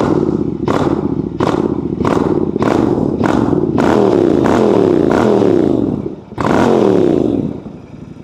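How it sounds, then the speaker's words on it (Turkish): Royal Enfield Interceptor 650 with an aftermarket exhaust revving hard, a series of sharp loud throttle blips with booming rise-and-fall exhaust notes, close and continuous, no talk. "Bu motosikletin sahibi bu egzozu sonradan takmış ve mükemmel bir sese sahip olmuş."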